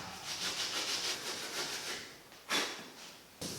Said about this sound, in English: So the red Scotch-Brite pad will do the job just fine.